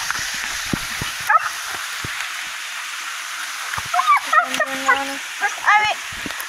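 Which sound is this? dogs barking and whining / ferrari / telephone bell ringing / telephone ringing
dogs barking and whining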